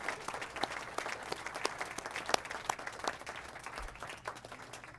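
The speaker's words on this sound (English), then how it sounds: "can we give them one more round of applause?" A city council chamber audience gives a round of applause for mentees returning to the front, dense steady clapping at moderate distance with a few sharper claps standing out, holding for several seconds.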